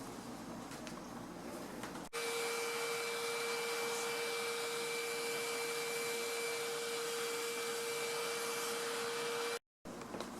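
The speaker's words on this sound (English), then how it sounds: "I'm going to get the vacuum and go over the grill" A vacuum cleaner cleaning a fan grill switches on and runs with a steady high whine, then briefly cuts out near the end before resuming.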